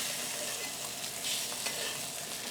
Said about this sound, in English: So I'm going to lean the pan so that butter pools a bit and then spoon it right on top.